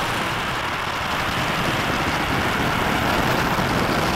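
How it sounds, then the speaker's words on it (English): The first United Launch Alliance Vulcan rocket lifts off on the CERT-1 mission with a continuous, dense, loud roar of broadband rumble that holds steady and unbroken from start to finish. "And liftoff of the first United Launch Alliance Vulcan rocket"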